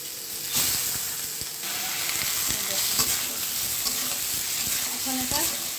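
Minced meat, already browned with crushed garlic in oil, hisses and sputters in a pan under a continuous wash of steamy sizzle, with occasional scrapes of a spoon nearby and no talk.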